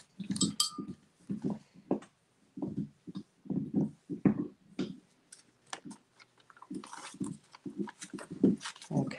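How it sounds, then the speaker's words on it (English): Close, irregular gnawing and clicking as a dog chews on something hard, with small wet crunches in uneven bursts. "my dog sitting right under the table because he's got to be by my feet chewing on a bone"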